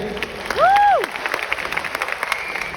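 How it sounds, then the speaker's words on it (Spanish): Conference audience at DevOps Day Medellín 2025 applauding, a thin scatter of claps with a rising-and-falling whistle-like whoop near the start, moderately quiet throughout. "Excelente, un aplauso para ustedes, che."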